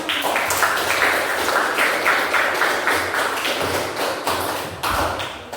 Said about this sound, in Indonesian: mari kita aplaus untuk kita bersama